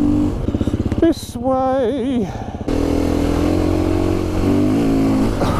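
A 2020 KTM 350-EXCF enduro motorcycle revs loudly close by on an off-road trail. Its engine pulses unevenly, rises through a sharp climbing rev, then settles into a steady loud drone, and someone says a few words over it.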